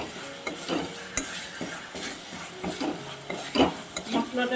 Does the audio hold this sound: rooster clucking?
no